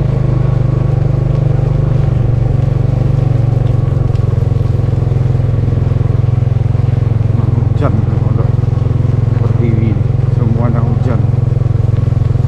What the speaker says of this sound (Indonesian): mohon maaf apabila ada agak berisik sedikit lagi di atas motor